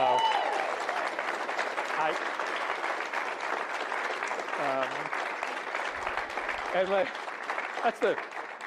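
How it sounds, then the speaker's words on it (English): A live-event audience applauds in a sustained round of clapping that carries loudly through the whole stretch, with a few brief voices rising above it. "that is the longest round of applause I got tonight"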